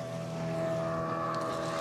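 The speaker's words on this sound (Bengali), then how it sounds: "ওই স্পিডবোট যাচ্ছে দেখুন" A speedboat motoring across the water at Maithon Dam, a steady droning engine hum at moderate distance with wind noise, continuous for the short moment.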